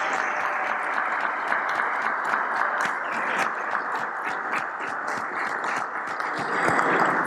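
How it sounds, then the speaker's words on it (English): An audience at a Ghana CEO summit award ceremony applauds the Public Sector CEO of the Year with dense, steady clapping that holds for several seconds. "let's acknowledge him with a round of applause"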